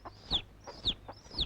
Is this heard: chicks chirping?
yes